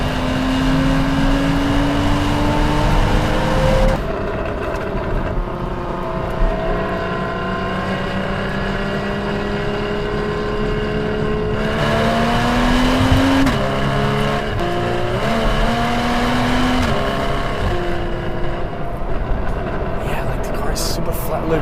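A 2016 Porsche Cayman 981 is driven hard through bends, its engine note rising and falling with each gear change and corner. The sound is loud, close and continuous throughout, with wind noise mixed in.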